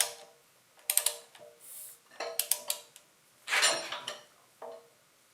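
A wrench tightens the front pulley on a John Deere 755 compact tractor, giving close, sharp metallic ratcheting clicks in several short bursts separated by quiet gaps.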